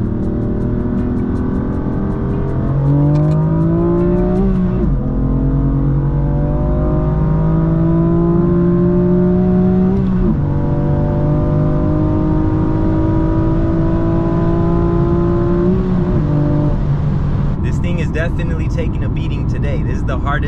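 A stock manual BMW M4 Competition F82 accelerating hard on a timed run, engine pitch climbing steadily through several gears with sharp breaks at each shift, loud and close from inside the car, ending in a higher-pitched whine.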